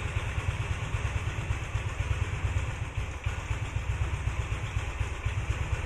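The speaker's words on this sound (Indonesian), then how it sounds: "ini kalau karbu tuh enak ya bisa di setting gitu lamsamnya" A Honda Beat motorcycle fitted with a Noken As carburetor idles close by, a steady rapid low chugging putter with a brief dip midway.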